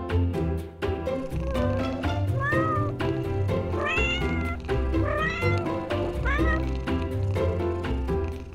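A cat meows several times over a full, loud musical backing, its rising and falling cries standing out in the middle of the mix.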